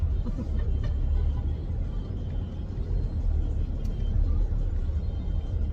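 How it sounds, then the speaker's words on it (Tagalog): Road traffic in Las Piñas gives a steady low rumble of car engines heard from nearby, continuous and moderately loud with no clear speech. "So, medyo traffic ngayon sa Las Piñas."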